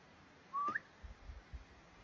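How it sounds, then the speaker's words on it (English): A single person's whistle on a rocky hillside, a short rising note that jumps to a higher tone, heard once and then silence broken by faint low thumps. "I'm gonna do a whistle and see if we hear anything."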